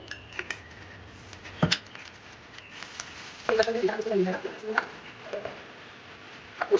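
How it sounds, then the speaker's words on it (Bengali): Three medium-sized steel bowls clink and knock as they are handled for steaming vapa pitha, sparse light metallic taps and a cluster of clatter midway, close and fairly quiet. "এবার দেখো আমি 3টে স্টিলের বাটি নিয়ে নিয়েছি মিডিয়াম সাইজের"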